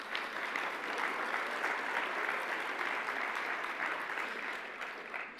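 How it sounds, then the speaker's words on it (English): A conference audience at a mental-health gathering gives itself a sustained round of applause, an even, full roar of many hands clapping that holds steady for several seconds and tapers slightly at the end, with no voices on top. "You should give yourselves a round of applause"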